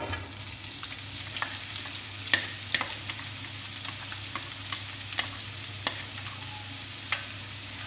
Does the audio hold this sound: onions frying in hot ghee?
yes